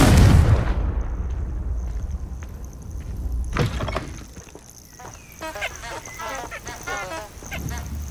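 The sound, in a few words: Confringo blasting spell explosion from video game Hogwarts Legacy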